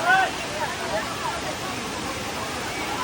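Kola waterfall at Bekare village near Matheran, a steady broad wash of falling water close by, with faint voices in the background.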